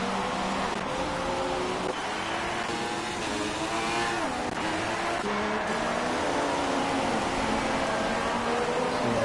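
Formula race cars lapping a track in F1 2016 at the Brazil circuit, engines whining and shifting pitch as several cars drone past at steady volume throughout, with no talk audible.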